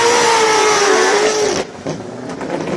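A V8 supercar at a hill climb roars loudly past with a strained, high-revving engine note, then drops off sharply as it moves away, leaving fainter engine sound trailing into the distance.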